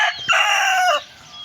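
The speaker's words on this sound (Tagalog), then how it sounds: "pakita ko pala yung ating manok na" A rooster crows once, loud and close, a single drawn-out cock-a-doodle-doo lasting about a second.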